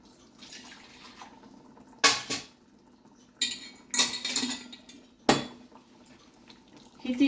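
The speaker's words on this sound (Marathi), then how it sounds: "ही 3रं वाटी पाणी टाकतोय आपण." Water poured from a bowl into a pot for Goan Saraswat prawn rice, heard as a few sharp splashing bursts with pot clatter in between, close in a quiet kitchen.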